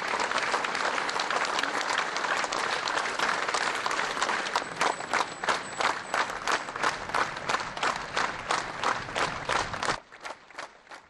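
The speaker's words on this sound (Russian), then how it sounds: "Последний путь актера по театральной традиции проводили аплодисментами." Sustained applause from a crowd of mourners at the funeral of actor Sergei Zhuravel, seen off with clapping in theatre tradition; dense and loud at first, turning into rhythmic, synchronized clapping before thinning out near the end.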